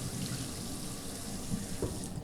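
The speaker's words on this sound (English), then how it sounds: "water still passes right through it like a filter" Water runs steadily through heavy paper used as a coffee filter, a close, continuous faucet-like rush with a soft splashing texture, no talking.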